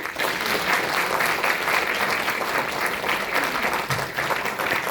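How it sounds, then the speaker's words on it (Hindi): An audience claps steadily at the close of a New Year's Eve motivational session, a dense, sustained patter of hands at moderate level, without speech. "जबरदस्त तालियां, गजब, इतने बेहतरीन काम के लिए सुपर"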